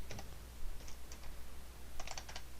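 Computer keyboard typing during a digital art lesson, in two short bursts of quick clicking keystrokes separated by a pause, close and fairly quiet over a low steady hum.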